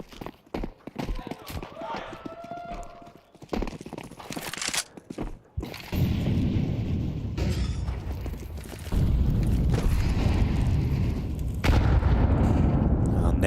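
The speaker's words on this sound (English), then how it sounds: "Nade landing on the stairs, a little bit of damage off the top of Elige and Skulls" Grenade landing and exploding in a Counter-Strike professional match, game audio with sharp gunfire cracks and footsteps, then heavy sustained booming rumble, with a caster talking over it.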